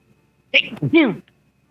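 A single sharp sneeze, close and loud, bursting out of near silence and ending abruptly.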